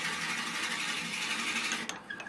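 A drill boring a hole with a minimum-diameter bit gives a steady, dense whir that runs without a break for about two seconds, then ends with a few short clicks.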